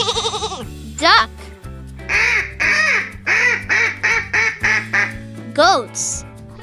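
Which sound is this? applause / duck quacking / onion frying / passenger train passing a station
duck quacking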